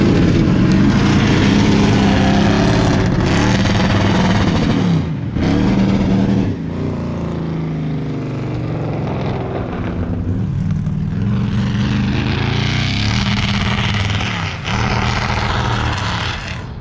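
A retired 2004 NASCAR Nextel Cup race car engine runs loud and close, a deep, rough roar that rises and falls through revs, with brief dips, and no voices over it.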